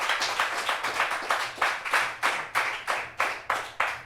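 An audience claps rhythmically in unison at a martial arts demonstration event, sharp regular bursts roughly every third of a second, fairly loud and close, building steadily.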